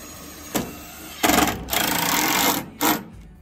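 A power driver sinks finishing screws into the siding of a wooden chicken coop, giving a brief whir followed by two longer, loud, close grinding runs and one short final burst.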